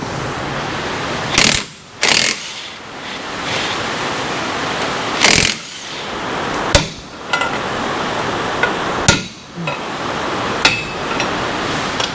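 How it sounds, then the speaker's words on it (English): A full floating axle being broken loose and pulled from a truck hub, heard as several sharp metallic bangs and clanks spaced irregularly over a continuous noisy background, with scraping metal between hits. "I broke the axle loose, pull the axle on out now."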